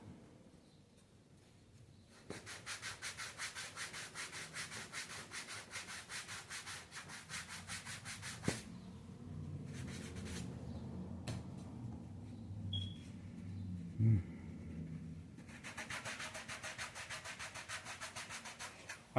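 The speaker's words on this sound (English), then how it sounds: "I brought these sanding blocks at Menards" Steady rasping strokes of a sanding block rubbing back and forth on wood, in long rhythmic bursts with short pauses between them.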